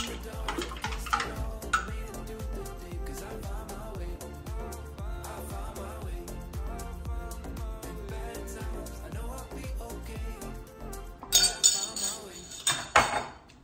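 A spoon stirs Tang drops into a drink, clinking rapidly and rhythmically against a glass or cup. Then louder clatters near the end, with a faint voice underneath.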